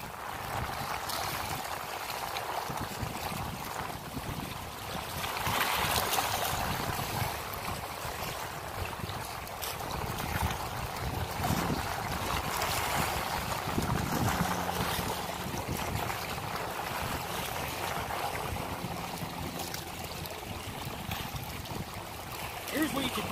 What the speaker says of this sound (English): These are 1 to 2 foot waves right here.